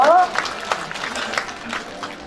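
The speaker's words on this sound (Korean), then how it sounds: "박수 부탁드릴게요." Audience applause at a volunteer festival award ceremony in Seocheon County, steady clapping from a crowd under a brief spoken prompt at the start, continuing at moderate loudness.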